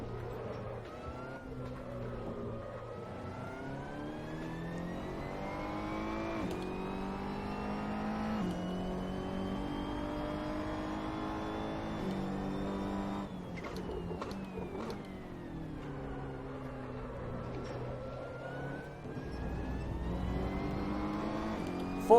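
A Ferrari 488 GT3 racing in Assetto Corsa drones steadily as it climbs through the gears, pitch rising and dropping with repeated upshifts and lifts for corners, loud and continuous with no talk.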